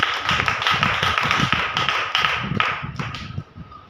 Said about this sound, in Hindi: क्या आप धन्यवाद की ताली दे सकते हैं?